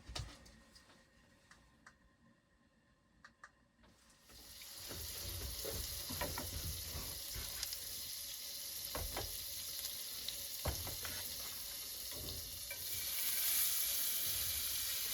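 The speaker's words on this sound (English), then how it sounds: "I'm just going to get these steaks just pre-seared off" Steaks searing in butter in a hot skillet at an ice fishing campout, starting from a quiet room with a few clicks, then a loud, steady sizzle and crackle up close.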